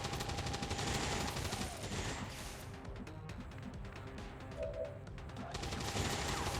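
Sustained suppressing gunfire in the turn-based strategy game XCOM 2 Long War, dense rapid bursts of shots and crashes rolling continuously and loudly with no talking.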